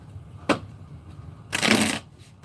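Chakra cards shuffled by hand in two short bursts: a quick riffle at first, then a longer, louder flurry of card noise a second later, fairly close in a quiet room.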